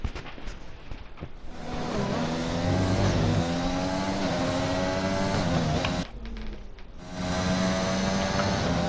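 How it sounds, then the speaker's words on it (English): A Formula 1-style race car engine in a racing video game at Zandvoort roars steadily with harmonic whine, briefly cutting out and sputtering twice before surging back, loud and close. "during that replay I just heard like the engine kind of struggle right there"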